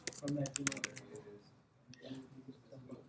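Quick bursts of key presses on a computer keyboard as a password is entered, close and crisp, with a short pause before a few softer taps; a voice speaks over the clicks.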